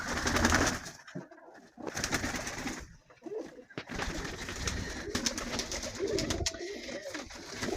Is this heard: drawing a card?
no